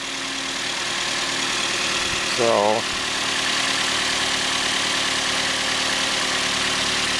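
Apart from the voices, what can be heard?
Toyota Yaris engine idling after coolant flush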